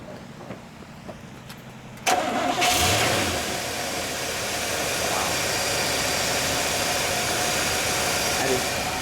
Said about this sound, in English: Well, George, let's start it up and let people hear what that smooth running engine starts like.